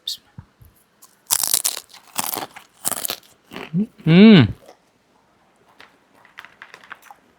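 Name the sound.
crunching balado-flavoured tanduk banana chips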